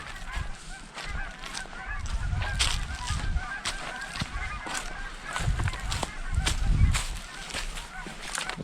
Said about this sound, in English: There's a bunch of geese overhead.